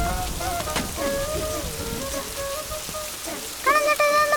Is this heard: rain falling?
yes